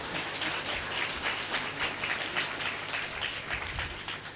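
Congregation applauding at a church convention, a sustained, moderately loud patter of many hands clapping with slight rhythmic surges and no break across the clip.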